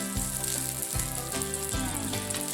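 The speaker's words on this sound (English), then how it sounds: "Here we got 22 meatballs. Okay, fry them up." Twenty-two meatballs frying in a pan, a steady close sizzle with faint watery crackling and no voices.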